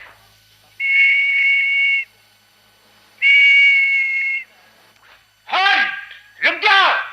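A shrill police-style whistle is blown in two long steady blasts in a Hindi radio play to halt someone, followed by a short burst of loud speech.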